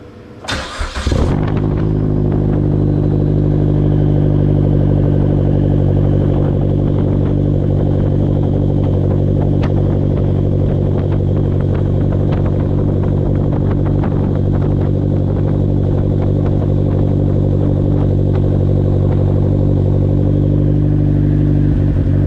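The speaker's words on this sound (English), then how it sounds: "So we're gonna get a cold start on the Venice this morning, and it's pretty chilly." A Vanderhall Venice three-wheeler cold-starts on a chilly morning: a sharp crank catches and the engine settles into a loud, steady, throbbing idle that runs on alone with a faint clatter.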